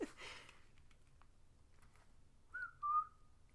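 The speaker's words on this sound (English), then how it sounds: "I won't whistle any more than that" A person whistles a few faint notes of Whistle While You Work, a short rising-falling phrase near the end after some soft rustling, quiet and close.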